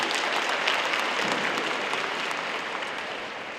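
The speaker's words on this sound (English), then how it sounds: "So a nice round of applause again for our superintendent" A crowd at a high school graduation ceremony claps for the school superintendent, a dense, steady applause filling the hall that thins slightly toward the end.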